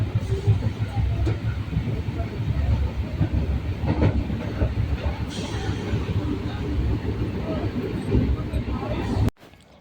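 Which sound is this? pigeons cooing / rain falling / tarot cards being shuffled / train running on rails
train running on rails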